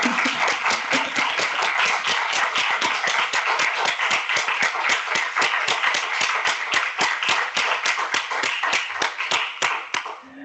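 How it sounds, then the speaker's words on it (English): Lecture audience applauding, a crisp, rhythmic run of many hands clapping in near-unison beats, steady and fairly close, fading slightly at the very end. "I hope that you also heard the applause"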